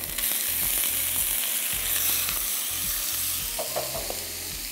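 Ginger garlic paste sautéing with onions, cumin and tomato in a pan, a strong steady sizzle with repeated stirring scrapes and a rhythmic low pulsing hum underneath, close and loud, no speech.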